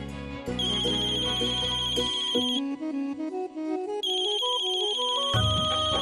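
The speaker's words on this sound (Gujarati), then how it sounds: "નીલા ભાભીનો ફોન." A loud electronic phone ringtone plays a bright, looping melody continuously throughout, alone with no voices.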